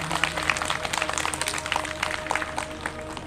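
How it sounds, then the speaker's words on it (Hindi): An audience at a Shrimad Bhagavat Katha gathering claps for a family, sharp scattered claps rising and falling over a steady musical drone. "एक बार परिवार के लिए जोरदार तालियां।"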